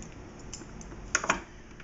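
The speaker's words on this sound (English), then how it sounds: "So we're going to cut right across like that." Scissors snip across folded origami paper in a few quick, crisp cuts, close and clear, with no talking.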